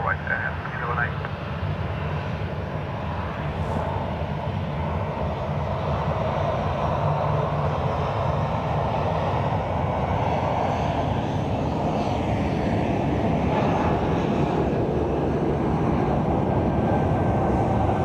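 A Ryanair airliner roars steadily nearby at Dublin Airport on a windy day, a loud continuous engine drone throughout, with a voice speaking underneath it.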